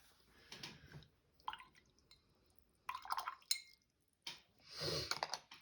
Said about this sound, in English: A lot of splashing happening.